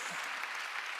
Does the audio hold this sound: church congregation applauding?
yes